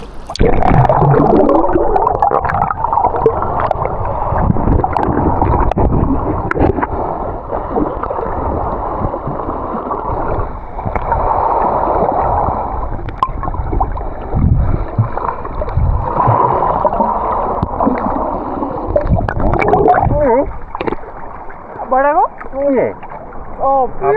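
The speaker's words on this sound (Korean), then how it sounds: "파도가 좀 센가 보다" Strong summer sea waves along a coast, churning and splashing water heard up close with rushing surges, while people talk and exclaim over it.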